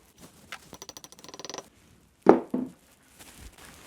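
A plastic wall plug is hammered into a drilled hole in a wall, preceded by a quick rattling run of small clicks and then two sharp, loud hammer knocks in close succession.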